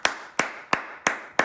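Five sharp, evenly spaced claps ring out alone, close and crisp, each with a short decay in a slow steady rhythm.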